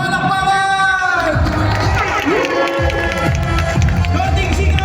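A large gathering of livelihood-program beneficiaries cheering at a morning event, with whoops and shouts rising over crowd noise and scattered clapping, while someone talks over the din.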